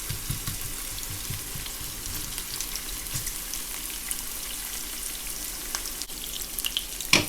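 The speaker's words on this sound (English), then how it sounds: "Let the onion infuse the oil nicely." A yellow onion fries in hot oil in a wok or pan, giving a steady close sizzle with small crackles and occasional stirring clatter throughout.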